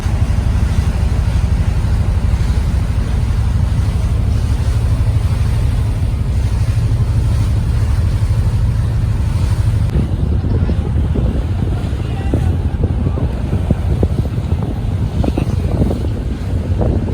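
A boat tossed on rough sea waves near Labuan Bajo, with steady loud wind buffeting the microphone over a low rumbling wash of water and engine, and splashy knocks growing more frequent toward the end.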